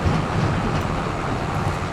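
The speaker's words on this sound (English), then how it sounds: "Our trailer's making a bunch of noise back there." A trailer in Farming Simulator 25 rattles and clatters continuously behind a rumbling engine, a steady mechanical noise with no talking.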